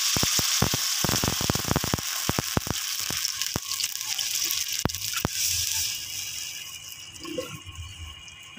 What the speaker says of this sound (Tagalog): Tapos mag-additional tayo ng 2 cups of water.